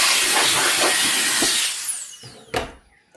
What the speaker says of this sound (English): so get your little blower,